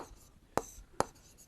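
Marker or chalk on a board while working a math problem, two short sharp taps or strokes half a second apart over a soft room hiss.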